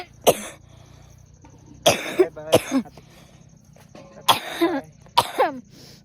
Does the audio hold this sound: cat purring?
no